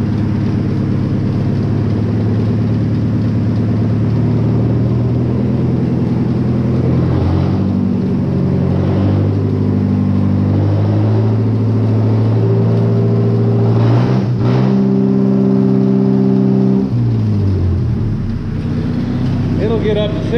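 A John Deere engine held at full throttle, a steady loud droning roar with strong low harmonics that shift pitch a couple of times as the load changes, with a voice talking over it.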